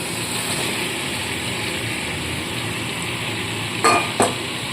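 Fried potatoes and pointed gourd go into a pan of cooked-down masala, giving a steady broadband sizzle of frying with two brief sharp clatters near the end as the pieces drop in; no talking.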